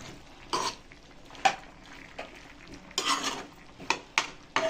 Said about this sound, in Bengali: এবার আবার আমি এর সাথে এটা মিক্স করিয়ে আবার আমি ঢাকা চাপা দিয়ে সিদ্ধ হতে দেব।